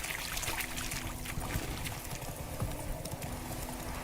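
Roach, Geralt's horse in The Witcher 3, clip-clops in a steady walking rhythm of hoofbeats, moderately close over a dense bed of ambient game noise, with no talking.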